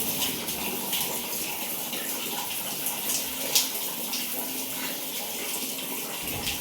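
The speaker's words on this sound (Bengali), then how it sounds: "আমার বাবুকে এবার স্নান করাবো" Water runs and splashes steadily at close range while a baby is bathed, a continuous rushing wash with no voices heard.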